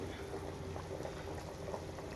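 A pot of chicken curry bubbles at a steady, soft boil, with a continuous low gurgle and faint popping.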